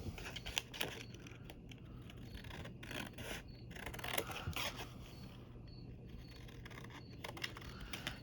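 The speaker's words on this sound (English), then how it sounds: "Now grab your scissors." Scissors snip through a paper craft piece, a series of quiet, close crisp cuts and rustles in an otherwise quiet room.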